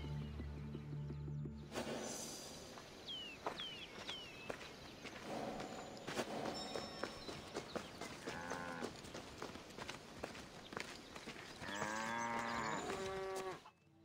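Cows moo on a farm in the Assassin's Creed Discovery Tour, with several long, low calls among footsteps and hoof clops. The loudest moo is near the end, all set against a quiet rural ambience with no talk.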